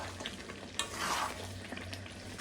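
A spoon scrapes and turns chicken korma in a pan as oil separates from the meat, giving soft, close stirring scrapes over a faint, low sizzle.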